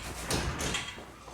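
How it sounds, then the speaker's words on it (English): A Tesla car door swings shut once with a soft, muffled thud during an illuminated door sill install, followed by a brief fading rustle in a quiet space. "Okay, close the door."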